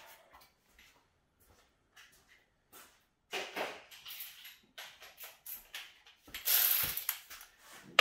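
A 3/8 ratchet on a long extension backs out a 10 mm bolt during an engine teardown, giving sparse quiet clicks, then a louder run of close ratcheting and a brief final burst of metal rattling.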